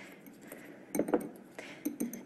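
A utensil clinks against a bowl while chili garlic sauce is mixed, several light, sharp taps in two short clusters over a quiet background.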